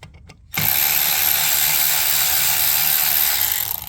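Ratchet wrench with an 8mm socket working on a Mercedes-AMG GT rear brake, a continuous loud, close whirring ratchet run starting after a brief quiet moment and holding steady to the end.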